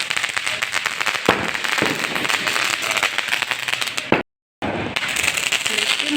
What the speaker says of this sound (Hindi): ये वो 12 शॉट है जो टूट गया था रास्ते में आने में, तो पता नहीं ये जल रहा है कि नहीं।